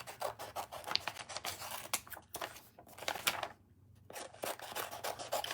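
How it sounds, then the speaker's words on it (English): Scissors cut pieces off card in a close run of quick snips and rasping scrapes, broken by a short pause near the end before the snipping resumes, with no talking. "I'm just going to go ahead and cut them off."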